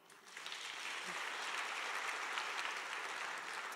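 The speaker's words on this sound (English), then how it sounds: "Let's give Jesus a clap." Church congregation clapping steadily, a broad dense wash of applause that swells in and holds at moderate level throughout.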